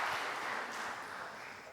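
Career expo audience applauding steadily, a dense even patter of many hands that holds for the full stretch and fades slightly toward the end.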